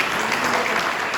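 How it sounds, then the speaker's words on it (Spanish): A church congregation applauds during a Spanish-language worship service, a short burst of dense, loud clapping that fills the whole moment with no break. "Yo siento que me le den un aplauso al Señor esta mañana."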